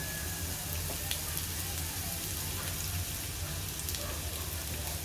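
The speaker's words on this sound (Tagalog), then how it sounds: "igigisa muna natin natin sibuyas" Onions sautéing in a pan for Filipino ginataan, a steady dense sizzle with soft crackle running throughout, close and moderately loud.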